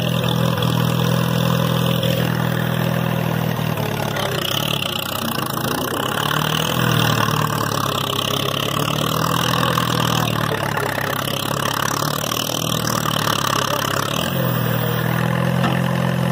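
A 1951 Case VAC tractor engine runs steadily up close, a loud continuous mechanical drone with slight shifts in pitch and load throughout, no voices over it.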